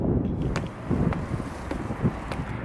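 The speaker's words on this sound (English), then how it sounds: "it is windy" Wind at a beach in Figueira da Foz in January buffets the microphone in a continuous rough rumble that swells and eases in uneven gusts.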